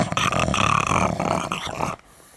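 Close, loud dog growling with snarls overlapping, rough and continuous for about two seconds, then cutting off to near silence.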